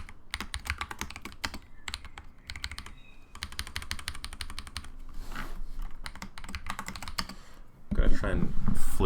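Rapid computer keyboard typing during a game development livestream: dense bursts of crisp key clicks close to the microphone, pausing briefly between runs, with a louder rustling clatter near the end.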